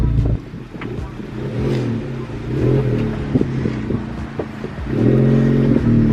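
A 2021 Honda Civic Type R fitted with a new catted downpipe revs up loudly up close, its engine note rising and falling in repeated throttle blips, with a strong sustained rev near the end.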